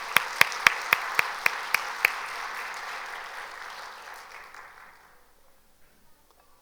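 A church congregation at a year-end service applauds the choir: a few sharp, loud claps stand out at first, then the broad applause thins and fades to near silence.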